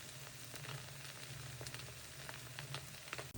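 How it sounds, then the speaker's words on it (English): Well-buttered Texas toast frying in a skillet over medium heat gives a steady, close, even sizzle throughout, with faint crackles and pops and no talk. "Place the well-buttered Texas toast in the pan."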